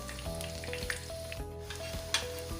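Potato donuts frying in hot oil, a steady close sizzle with occasional crackles and pops, no voices.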